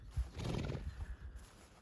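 A young stallion whinnies once, close and fairly loud, a short neigh followed by soft hoof shuffling on the ground.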